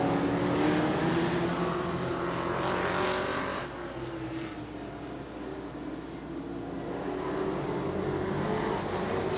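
Ford and Chevy race cars in a Super Short Track Racing Series event roar around a short track, a loud continuous engine drone that dips briefly in the middle and then builds again, with no talk over it.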